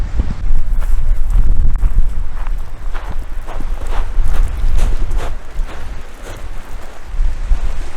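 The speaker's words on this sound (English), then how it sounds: "Super windy out here." Strong wind at Upper Kananaskis Lake buffets the microphone in loud, rumbling gusts, with scattered crunching steps underneath.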